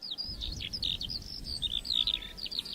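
Skylarks singing over moorland bogs, a continuous bright warbling run of high chirps and trills, heard alone against a soft low wind rumble.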